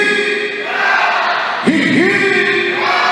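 Party crowd at an 80th birthday celebration shouting cheers for the couple, a sustained collective roar with a sharp rise partway through, loud and close.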